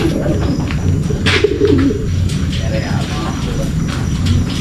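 Racing pigeons coo in low, repeated calls close by, with scattered wing flutters and shuffling, while a person talks over them throughout.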